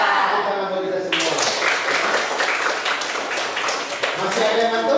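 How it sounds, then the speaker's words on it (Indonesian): Classroom audience of vocational high school students clapping together, a dense burst of many hands starting abruptly after a second of voices and continuing steadily, with voices mixed in. "Tepuk tangan bagi kita semua."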